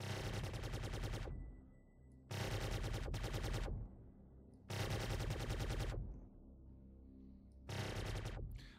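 Guns on an F8C Lightning ship in Star Citizen fire in four long, extremely rapid bursts, each a dense, loud stream of shots separated by short pauses, with no talking.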